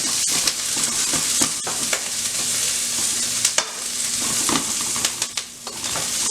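Garlic and thin-sliced vegetables sizzle and fry in a very hot stir-fry pan, a steady crackling hiss broken by sharp pops and occasional stirring clatters, close and without talk.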